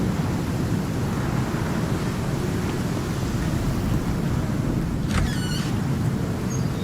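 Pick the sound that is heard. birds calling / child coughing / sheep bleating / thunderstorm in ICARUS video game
thunderstorm in ICARUS video game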